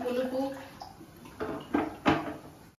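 Water is poured into a pot of dal on a lit stove while making sambar, giving a splashing rush with a few louder sloshes and clanks of the pot near the end, close by.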